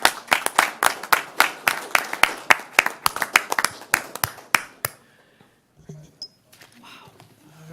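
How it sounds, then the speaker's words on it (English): Audience at a fire board meeting claps in a lively burst of many hands, sharp and close, then stops abruptly and leaves a quiet room with faint movement. "How about a big round of applause?"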